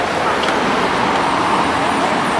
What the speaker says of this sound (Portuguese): Paradiso 1200 da Gontijo, saindo para Patos.